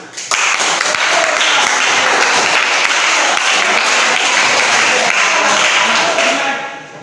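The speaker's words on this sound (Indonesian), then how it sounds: "Tepuk tangan." Sustained applause from a classroom audience, dense and steady for several seconds before trailing off at the end.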